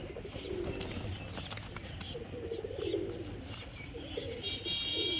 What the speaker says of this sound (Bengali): এটা একটা নর পায়রা, প্লাস একটা চটিয়াল মাদি আছে এর সাথে জোড়া।